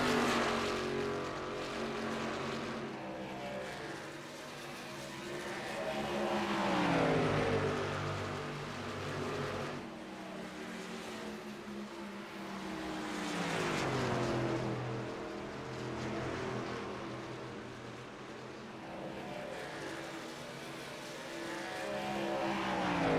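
Racing trucks in a Tuesday Night Truck Series race at Darlington, engines droning and revving in a steady pack, with rising and falling pitch sweeps as trucks pass by, moderately loud throughout.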